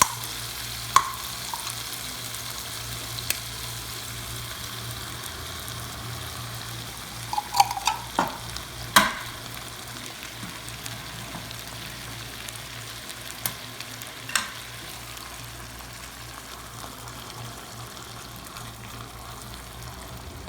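Canned sardines go into sautéed tomatoes frying in a pan, producing a continuous low sizzle with scattered sharp clicks and scrapes of stirring, louder clusters in the middle.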